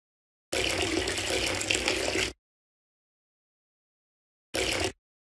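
Water pours steadily for about two seconds as shampoo is rinsed off a child in a cartoon bath, then after a pause a second, much shorter splash of pouring water follows.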